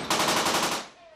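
A Royal Navy ship's rapid-fire weapon, such as a Mark 44 minigun, fires one short loud burst of rapid repeated shots that cuts off abruptly and leaves a brief fading echo.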